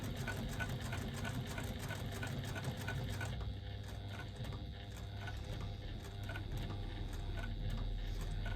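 A sewing machine runs steadily while stitching an Uno wristlet, a continuous close mechanical whir with a rapid needle rhythm that keeps going throughout without pause and with no talking.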